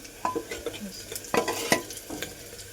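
Vegetables, bottle gourd among them, tempered in a hot pan with a close sizzle, broken by several short scraping stirs of a spoon against the pan.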